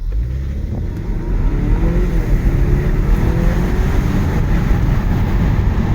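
A Volvo XC60 T8 AWD plug-in hybrid SUV accelerates in all-wheel drive mode with its engine running, giving a steady, smooth and muted drone of engine and road noise that holds close and loud throughout, with no burble or pops.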